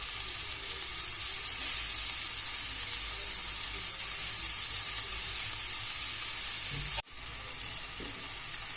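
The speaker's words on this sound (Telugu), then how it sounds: "చూడండి గోరుచిక్కుడుకాయలు మగ్గుతూ ఉన్నాయి బాగా." Cluster beans (gorichikkudu) curry simmers on a low stove with a continuous soft hiss and sizzle, broken once by a brief clatter.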